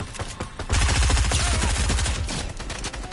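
Rapid automatic gunfire from AI enemies in Fortnite, a loud close burst of fast repeated shots sustained for a couple of seconds after a brief lead-in.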